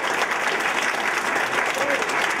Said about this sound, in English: a big round of applause for Adrian